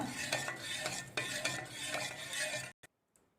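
Turmeric and tamarind water stirred in a pan, dense wet scraping and sloshing strokes in a steady rhythm for nearly three seconds, then a sudden stop with one faint clink after the silence.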